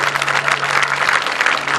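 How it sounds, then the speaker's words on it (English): A small crowd claps for a man named Eric before the Menai Run in 2007, a dense steady applause heard close by with a low constant hum beneath it. "chi'n ei clap i Eric, chwarae teg Eric"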